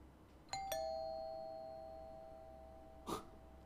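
Doorbell in the horror video game Fears to Fathom, two clear chimes ringing out and decaying slowly in a quiet room, then a soft thump near the end.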